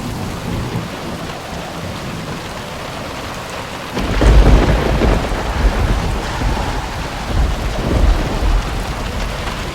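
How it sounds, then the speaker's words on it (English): A wilderness thunderstorm pours steady heavy rain with gusting wind, then a loud, close thunder crash bursts in and rumbles on for several seconds over the downpour. "It's thunder and lightning out there. It's so loud and there's so much wind and so much rain."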